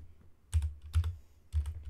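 Three quick bursts of keystrokes on a computer keyboard, close and crisp, separated by short pauses in an otherwise quiet room.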